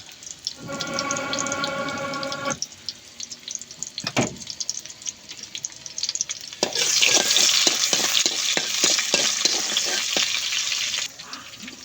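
Pangas fish sizzles in hot oil for a tomato khatta, a loud crackling hiss breaking out partway through after a tap runs briefly and a few clinks, with no talking.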